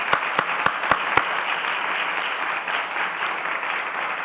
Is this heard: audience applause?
yes